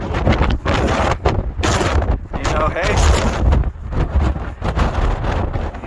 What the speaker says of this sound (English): so windy and it's just knocking you all over the place